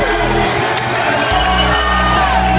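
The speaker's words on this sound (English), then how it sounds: "Yeah, the crowd's cheering for him." A large crowd cheers and whoops for Brandon as he walks in to compete, a loud continuous roar of shouting voices with a steady low hum beneath it.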